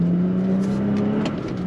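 A 2022 Toyota Tacoma TRD Pro pickup with a six-speed manual pulls away hard in first gear, its engine note holding a steady, loud droning tone up close with no talk over it.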